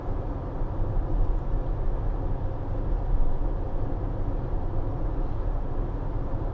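A 2019 Citroen Relay 2.2 BlueHDi 35 Enterprise L2 H2 van cruising at 60 in sixth gear around 1900 revs gives off a steady, even cabin roar of engine and road noise, constant throughout with no voices.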